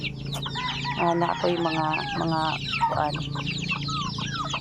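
Chickens and small chicks clucking and peeping busily while being fed, with a close hen cluck and a brief crow-like call, a voice speaking over the flock.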